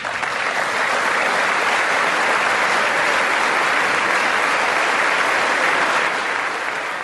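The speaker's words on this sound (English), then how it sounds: "he's getting big rounds of applause there" A large crowd applauds a political speech, a loud, sustained wash of dense clapping that holds steady from start to end with no voices over it.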